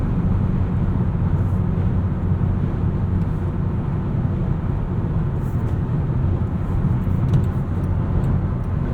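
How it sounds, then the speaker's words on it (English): Steady broadband road and wind roar inside a boxy Land Rover Defender 130 First Edition cruising on the highway, a constant low rumble with no voices. "You can hear there's some wind noise here on the highway"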